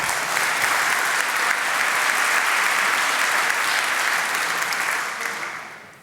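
A conference audience at a Laravel developer event applauds, a full, even roar of many people clapping across a large room, holding steady for several seconds before fading out.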